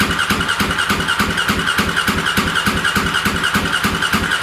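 A stored motorcycle's engine cranks over steadily on the starter with the ignition on and no throttle, a loud, even, rapid rhythmic churning that never catches and fires.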